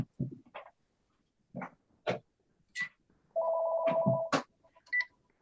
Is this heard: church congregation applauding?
no